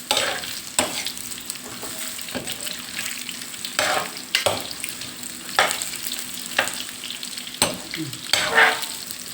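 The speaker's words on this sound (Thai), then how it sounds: "ทอดเหลืองๆจะได้น่ากินนะคะ" Mackerel fish cakes deep-frying in hot oil, a steady sizzle broken by repeated sharp bursts and scraping stirs of a utensil, close and fairly loud with no talking.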